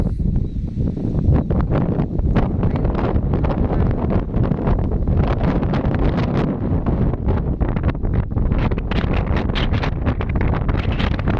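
Strong, steady wind buffets the microphone at a roadside viewpoint at the foot of Mount Arayat on the Arayat–Magalang bypass, a loud continuous roar with rapid gusty flutter throughout and no voices.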